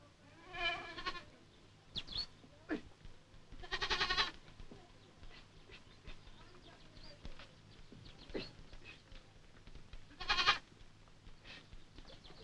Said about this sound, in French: Chaque matin, les troupeaux qui ont passé la nuit en pleine ville, à l'abri des dangers, se répandent dans les rues